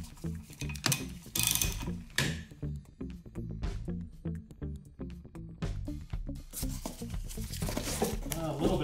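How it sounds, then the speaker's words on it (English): A 15 mm socket wrench ratchets rapidly on the wiper arm nut of a 2015 Ford Escape, giving close, rhythmic metallic clicking bursts with a few louder clunks as the nut is turned. "Pull off the cap and a 15 mil socket."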